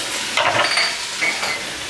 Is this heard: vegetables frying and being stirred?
yes